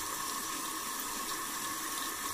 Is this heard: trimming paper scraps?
no